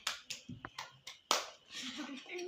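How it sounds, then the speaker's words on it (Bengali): A child's clapping at home after a spelling answer: a few sharp, irregular hand claps close by, followed by softer clatter and murmuring voices. "ওয়াও হাততালি।"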